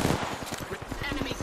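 Rapid automatic gunfire in Apex Legends, a steady stream of evenly spaced shots rattling close and loud for the full stretch, with game voice lines mixed in.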